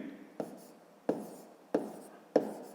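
Pen taps and short scratches on paper while numbers are written out for long division, four distinct close strokes at roughly even intervals, quiet and alone.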